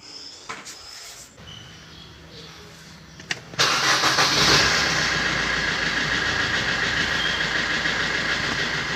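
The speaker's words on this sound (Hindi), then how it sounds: "अब एक बार स्टार्ट कर देंगे गाड़ी।" A Maruti Suzuki Ciaz ZDi diesel car engine cranks and fires up after an alternator and AC belt change, then settles into a loud, steady close-up idle after a few faint clicks.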